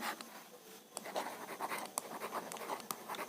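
Chalk or a marker scratches across a board during a chemistry lesson on solids. Short, close scraping strokes come in quick irregular bursts against a quiet room.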